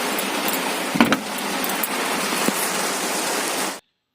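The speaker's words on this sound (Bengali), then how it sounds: "জোরে জোরে বড় বড় ফোটায় বৃষ্টি পড়ছে" Heavy rain pours in big drops, a loud dense hiss of water striking surfaces nearby with a few sharper knocks, cutting off abruptly near the end.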